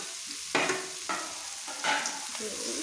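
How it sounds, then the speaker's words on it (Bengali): Fenugreek leaves fry in hot oil with a steady sizzle, broken by three or four bursts of louder crackling as the greens are stirred and turned in the pan. "সেই শাকটা এখন তেলের মধ্যে দিয়ে দিচ্ছি"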